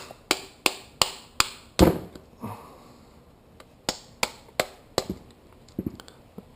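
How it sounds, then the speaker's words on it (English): Small mallet tapping a punch to drive the pin out of a Time ATAC XC bike pedal, sharp metallic taps in two rhythmic bursts of several strikes, close and clear, with no talk. "find yourself a little punch or a screwdriver of the right size, and just tap it with a little mallet"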